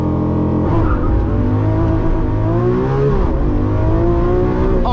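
A 2022 Lamborghini Countach launching under launch control, its engine howling up through the revs in loud, rising sweeps with a short dip at a shift before climbing again, close and alone.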